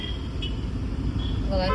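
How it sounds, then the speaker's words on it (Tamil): Heavy road traffic on a congested route toward a toll plaza, a dense rumble of idling and creeping vehicles with brief horn toots, close and continuous under a voice talking. "டிராஃபிக் படு பயங்கரமான டிராஃபிக்."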